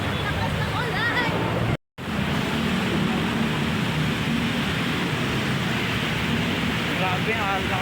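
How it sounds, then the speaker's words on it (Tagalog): Heavy rain pours down in a steady, loud, unbroken hiss that fills the whole clip, with faint voices mixed in beneath it. "grabe ang lakas ng ulan"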